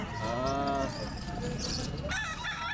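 At a pet market, a Rhode Island chicken lets out a drawn-out crow near the start, followed by shorter harsh calls over a busy background of livestock noise.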